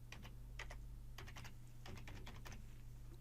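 Fast, uneven keystrokes on a computer keyboard as an email address and password are entered, with clustered bursts of clicks and short pauses over a steady low hum, close and fairly quiet.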